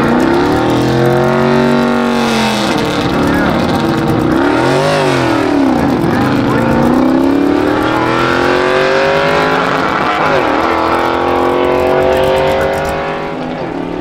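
A Mercury Cougar drag race car launches down the strip, its engine roaring loud and close as it revs through rising gear pulls, then fades slightly at the end.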